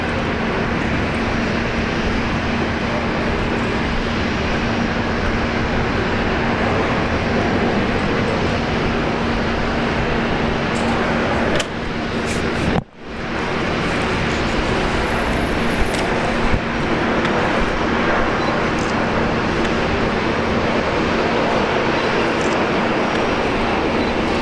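A Boeing Dreamliner jet on the runway at Brisbane Airport produces a loud, steady engine roar and broadband rumble throughout, with one brief dip midway before the roar resumes, no voices heard.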